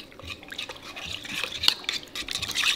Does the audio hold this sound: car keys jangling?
no